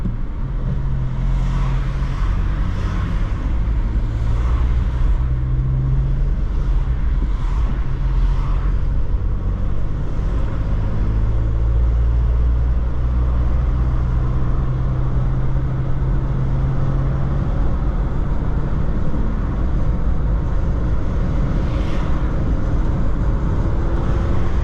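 A VW Up 1.0 with a 60 hp engine driving at night in second gear, its engine a steady loud drone with road rumble that holds level throughout.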